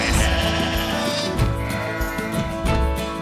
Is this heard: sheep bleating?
yes